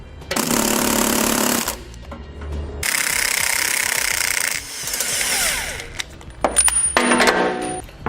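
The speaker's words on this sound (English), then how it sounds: "I'm going to be using a 15mm socket to remove those two bolts." A tool drives a 15mm socket to remove the two bolts holding a tow hook on a 2016 Ford, in several loud close bursts of rattling hammering separated by short pauses, followed by metallic clinks.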